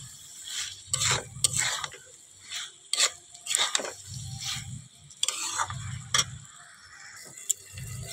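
Vegetables and soya chunks sautéing in spice masala for a pumpkin and potato ghonto, with repeated rhythmic scrapes and clacks of a spatula against the pan over a soft sizzle, close and unvoiced.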